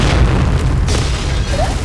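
A loud, low rumbling boom of a grenade explosion in the game Point Blank fills the moment, dense and sustained rather than a single sharp crack.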